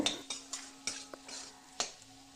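Potatoes and onions frying in oil are stirred with a metal spatula: a series of sharp, fairly regular clinks against the pan over a faint, low sizzle.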